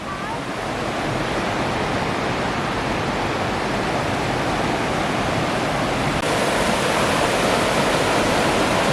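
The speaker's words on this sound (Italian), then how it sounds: "qua è molto più bella la cascata" A waterfall in Slovenia roars steadily as a loud, dense, unbroken rush of falling water, close and continuous throughout.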